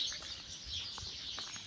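Birds chirp faintly from a distance in a leafy residential neighbourhood, giving a few short scattered tweets over a soft steady hiss of background noise.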